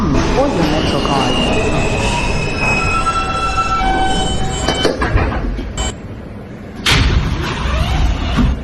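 A New York subway L train runs loudly between stations in Brooklyn, a steady rumble with high wheel squeal and tonal whine, rattling bursts near the end.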